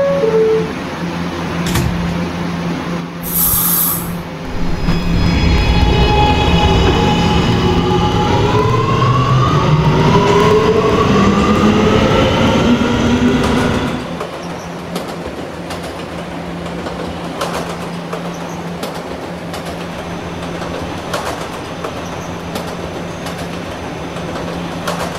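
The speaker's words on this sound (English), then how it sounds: "This is a Gatlin-bound R local train." Subway train in the Roblox game PTA Subway, an R local, accelerating with a rising electric motor whine and rumbling wheels that swell loud, then drop to a quieter steady hum as it runs on.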